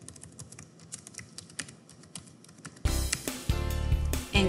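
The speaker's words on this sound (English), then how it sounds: "To get started, enter your email address," An email address and password are typed on a computer keyboard in quick, irregular bursts of key clicks, near and clear, and the clicking turns noticeably louder partway through.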